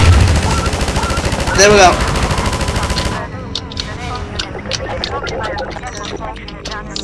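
Turret gunfire in Half-Life 2 fills the opening three seconds as a loud, dense burst of rapid shots, then drops away to scattered lighter effects; someone speaks briefly over it.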